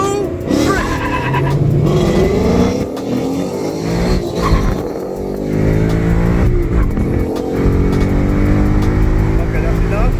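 Dodge Charger drag racing another car, loud engines revving and accelerating hard with rising and falling pitch sweeps, close and continuous, with someone talking over the noise.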